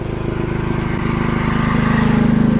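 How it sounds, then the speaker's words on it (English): A cheap Chinese mini skid steer runs its auger attachment, giving a loud, steady, throbbing engine drone that builds slightly over a few seconds. "I'm gonna try out the auger."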